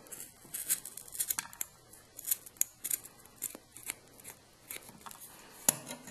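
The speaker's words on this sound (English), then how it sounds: "Then what I'll do is cut these to length." Scissors snip the ends of paracord to length for a two-color King Cobra bracelet, giving a close, quiet series of crisp irregular cuts with some rustling of the cord.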